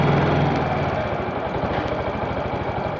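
Yamaha Majesty YP250 scooter engine idling steadily with a close, continuous low throb and mechanical clatter, rough and even throughout, with a couple of faint clicks on top.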